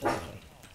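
A dog in a Minecraft adventure map gives one brief, faint yelp or bark that trails off quickly, with some game noise around it.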